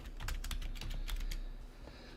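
Someone types on a computer keyboard: a quick run of soft, close key clicks over a low steady background hum, with no voices.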